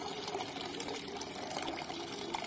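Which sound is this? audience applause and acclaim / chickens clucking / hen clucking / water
water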